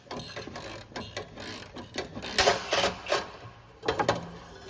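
Ratchet backing out a wheel bearing bolt on a Lexus RX350 during a right rear bearing replacement, a series of close, sharp clicking pawl bursts in uneven groups, with louder clusters near the middle and end.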